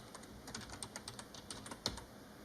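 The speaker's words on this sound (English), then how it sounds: "you can type in a bunch of keywords" Rapid computer keyboard typing of keywords into photo-editing software, a steady run of light clicking keystrokes with one sharper tap near the end, close and fairly quiet, no voices.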